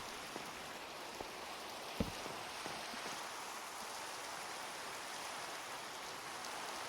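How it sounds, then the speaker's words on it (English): Steady rain falls in a video game world, a soft even hiss with occasional faint drip-like ticks and no talking. "I'm just going to let the rain sounds"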